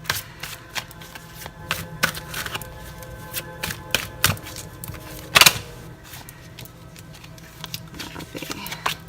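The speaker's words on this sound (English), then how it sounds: "Having some trouble shuffling the cards today." Tarot cards are shuffled with soft, irregular riffling patter and occasional sharper snaps, close up and continuing steadily.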